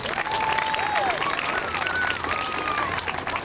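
Crowd applause at a community gathering in Glasgow for people in need, steady clapping sustained throughout at moderate loudness, with cheering-like voices and whistles mixed in.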